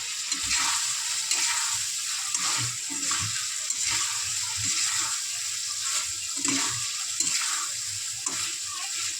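Fried potato and tomato going into a hot, oil-rich banana flower and prawn curry, giving a steady close sizzle with soft stirring scrapes and clinks throughout, no voices.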